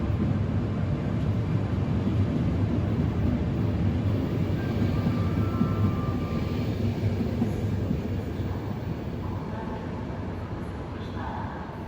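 A train rolls toward Lisbon in Portugal, giving a steady, loud rumble and rattle of wheels on the rails that holds throughout, with faint squeals rising above it now and then.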